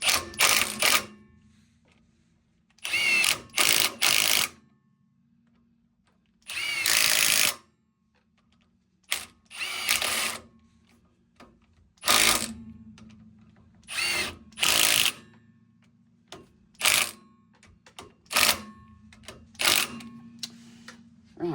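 A power tool whirs the nuts up onto a Land Rover Defender half shaft during a restoration, sounding as repeated short, loud bursts separated by pauses and quiet ticking, close by in a workshop.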